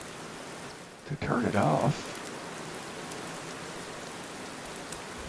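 Steady rain from the video game Sapiens hisses evenly throughout as a dense wash of falling drops, with a person briefly speaking over it near the start.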